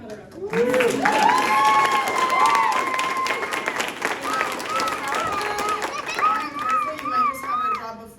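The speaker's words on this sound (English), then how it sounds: "And speaking of ambassador, Miss Kara, can we have another round of applause?" Crowd at a charity walk kickoff event held at the Disneyland Hotel applauds steadily throughout, with children's high excited shouts and cheers riding over the clapping for several seconds.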